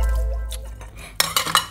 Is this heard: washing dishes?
yes